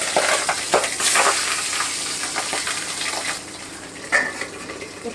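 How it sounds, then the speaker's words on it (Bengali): Tangra fish frying in hot oil over lowered heat, a steady close sizzle and crackle filling the pan with bursts of spattering, no talk. "আমি আঁচটা কমিয়ে দিয়ে মাছগুলোকে ভেজে নিচ্ছি"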